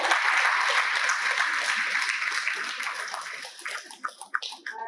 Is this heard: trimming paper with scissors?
no